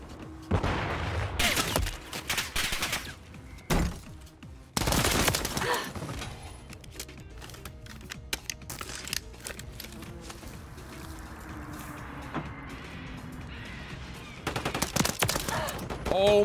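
Video game gunfire from an online shooter, with a UMP and a pistol in use: close bursts of rapid shots come in clusters, then isolated cracks and quieter stretches, with another burst near the end.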